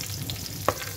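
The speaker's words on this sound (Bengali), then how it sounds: "মেখে এখন এই যে ভাজতেছি এরকম করে" Eggplant slices coated in cumin, turmeric, salt and mustard oil fry in a pan with a steady, close hiss and one brief scrape of stirring.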